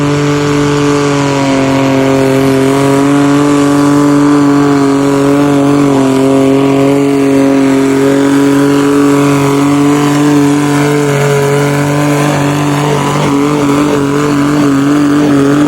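An old Ford engine on a pulling garden tractor roars loud and steady, a deep sustained drone holding pitch with slight rises as it revs, close and continuous with no talk.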